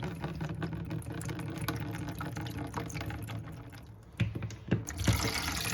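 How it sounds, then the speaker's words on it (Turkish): Salty brine water from cracked green olives being poured off into a sink, a steady watery splash and trickle running throughout with a few louder splashes near the end, close up and without talk. "Şimdi ben bunun suyunu döküyorum."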